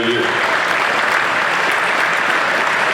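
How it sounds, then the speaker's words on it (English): A crowd at a racing foundation awards event applauds warmly, a loud, continuous roar of clapping with no gaps, steady from start to finish. "please give those guys a round of applause"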